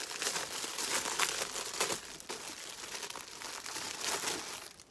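A SHEIN order package is opened by hand, its plastic wrapping crinkling and rustling in quick, irregular bursts close by, with no talking.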